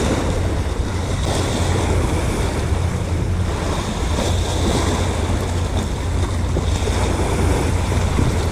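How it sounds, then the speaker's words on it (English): Strong wind and rolling surf at East Coast Park, Singapore, a steady broadband roar of gusts buffeting the microphone over breaking waves, loud and continuous throughout with no voices. "it is really windy out here"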